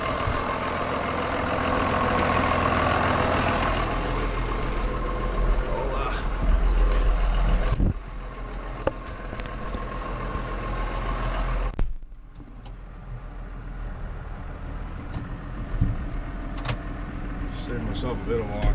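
A farm vehicle drives across a field during spring tillage, its engine droning loudly and steadily, then dropping to a quieter idle-like rumble with occasional clunks and rattles.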